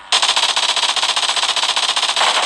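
An MP5K submachine gun fitted with a red dot sight fires in PUBG Mobile, a loud, rapid, continuous burst of evenly spaced shots.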